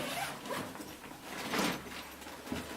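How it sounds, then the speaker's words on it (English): A zipper being pulled open on the carry bag of a Dewalt 20V MAX XR brushless combo tool kit, a close, brief rasping slide with a louder burst midway, heard alone without talk. "So the toolkit also comes with a bag, which is cool. Let's unzip this here."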